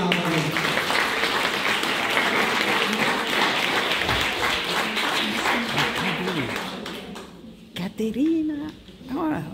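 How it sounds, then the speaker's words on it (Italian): Loud, sustained applause from an audience at a book presentation in Lercara Friddi, welcoming two young speakers, filling most of the clip before tapering off as voices take over near the end. "Vorrei accogliere con un applauso, ma un applauso forte"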